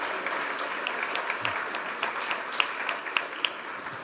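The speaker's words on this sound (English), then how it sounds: "Let's give a round of applause to our panelists." An audience at an ocean-policy panel event applauding a panel, steady clapping from a sizable crowd in a hall, moderately close and even, with a few sharper individual claps standing out.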